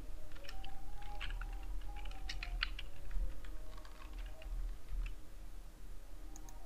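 Keys clatter in an irregular stream of quick, light clicks on a computer keyboard, close and steady at moderate volume, with no talking over them.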